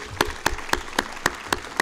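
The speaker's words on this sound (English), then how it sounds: "One more round of applause for Lynn." Hands clap in an even, steady rhythm for a speaker at a race car exhibit reception, about seven crisp, evenly spaced claps up close, with no voices.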